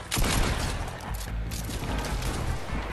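Dense gunfire from a Fortnite Battle Royale match rattles on continuously for about three seconds, loud and close, with layered bursts and no clear gaps.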